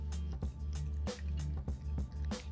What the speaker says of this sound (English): I have some coffee powder here, which I'm just adding to my bowl, and over it I'm going to add hot water